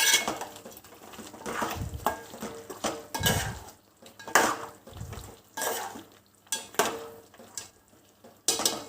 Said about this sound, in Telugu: ఇది మళ్ళీ ఒకసారి కలుపుకుందాం.